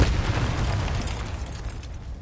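A Confringo fire spell explodes in the Hogwarts Legacy video game, a loud, rumbling burst that opens strong and then rolls on as a sustained low roar with crackling over about two seconds.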